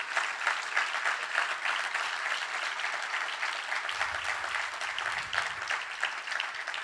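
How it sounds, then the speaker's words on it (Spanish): A congregation applauds during a Spanish-language church service, steady moderate clapping throughout with a brief low rumble partway through. "Dale un aplauso al Señor."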